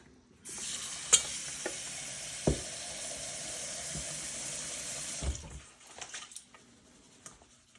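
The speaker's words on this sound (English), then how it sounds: "I'm going to go ahead and just barely cover the rice with water" Tap water pours steadily into a rice cooker pot over soaked sticky rice for coconut sticky rice, a close continuous rushing stream with a few light clinks, stopping near the end before faint handling sounds.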